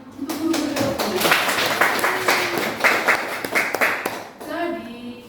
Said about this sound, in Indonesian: Marilah kita tepuk tangan untuk guru-guru umum.